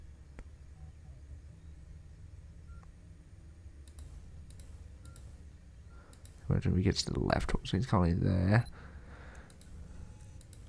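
A few faint, sparse clicks over a low ambient hum in The Return to Bloody Nights demo, an animatronic horror game, followed by a person talking over the game sounds.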